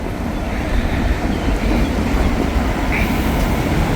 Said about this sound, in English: there goes L425, the Connorsville local